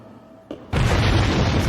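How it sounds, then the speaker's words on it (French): An explosion in the anime My Hero Academia hits after a brief thump, becoming a loud sustained roaring blast that fills the remaining second. "L'explosion de tout à l'heure venait de là"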